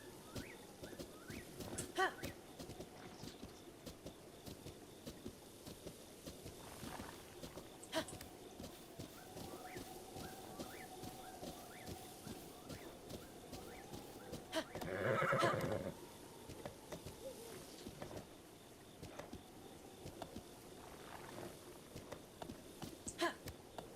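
Horse neighs and whinnies in Breath of the Wild, with light clip-clop of hooves and a louder burst partway through, over steady game ambience and a faint background tone.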